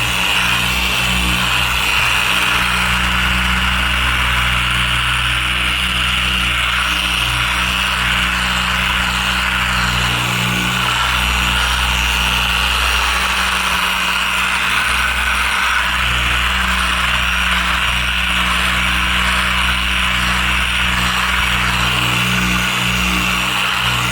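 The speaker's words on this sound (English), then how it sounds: "One-handed DA polish here." Dual action polisher running steadily on the paintwork of a VW Golf Mk6 Cabriolet, a loud continuous whirring drone with a low motor hum that holds for the full length without pause, no talking.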